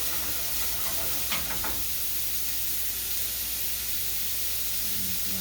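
Ham or bacon frying until crisp in a pan for a beef bourguignon stew gives a steady, close hissing sizzle throughout, with a faint brief clatter near the middle and no talking.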